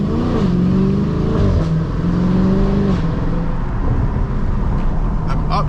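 A Dodge SRT 392 with a Borla ATAK exhaust revs and shifts up close, its deep engine note climbing and dropping through several gear changes, loud and continuous with no talking.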